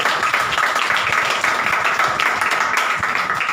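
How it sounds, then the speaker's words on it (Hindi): A church congregation claps hands together during a Hindi Christian service, a steady, loud, slightly uneven patter of many hands close by, with faint voices mixed in. "ताली बजाओ ना, हालेलुया।"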